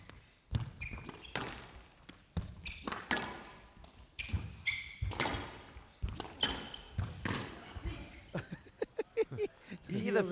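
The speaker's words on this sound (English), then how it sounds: "the racket just smashed into the floor" A squash racket smashes into the court floor during a professional match between two players at the Grasshopper Cup, giving a double thud among repeated sharp ball and footstep impacts, with commentators talking.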